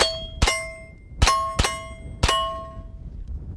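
Five sharp, ringing reports from a pistol carbine fired at a range during a left-right-center target drill, each crack followed by a metallic ring, spaced irregularly over a few seconds.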